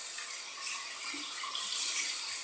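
Running water rinses a RazoRock chrome shaving brush as it is worked back and forth by hand, a steady broadband splash and hiss of tap flow lasting throughout with no talking.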